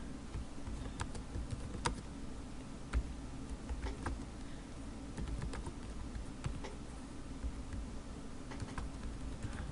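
Steady, fairly quiet clicking of fingers typing on a computer keyboard, with an irregular rhythm of light keystrokes and a few sharper taps over a low background hum. No one speaks.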